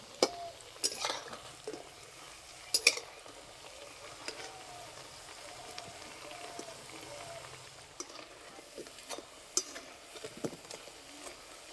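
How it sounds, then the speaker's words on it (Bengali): Semolina and potato snacks frying in oil, a low steady sizzle with scattered pops and occasional clicks of a utensil turning them, fairly quiet. "একটু সময় ধরে এপিট ওপিট ভালো করে ভেজে নেব।"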